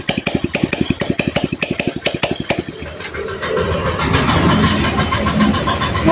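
A Suzuki motorcycle engine fired up with no battery installed: a quick burst of rhythmic starter-like pulses gives way to a steady, loud running engine note close by, with no talking.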